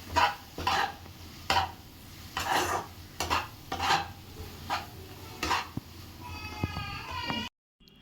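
Stirring a pot of pointed gourd and shrimp, a spoon rasping and scraping against the pan in repeated strokes over a soft sizzle, ending with a short sharper clatter.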